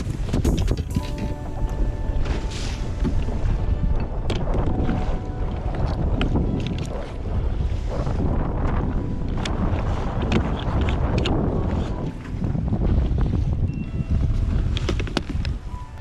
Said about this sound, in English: We've got wind and waves coming from like the west and the north.